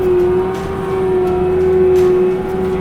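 A disc mulcher's engine runs hard and steady with a strong sustained drone as brush is cut and fed in, loud and close with no talking.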